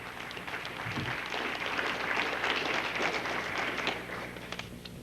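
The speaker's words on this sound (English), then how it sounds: "And we'd like to have a round of applause for her and her" Sustained applause from an audience at a 1995 University of Michigan law journal event, a steady wash of clapping hands lasting several seconds before easing off slightly near the end.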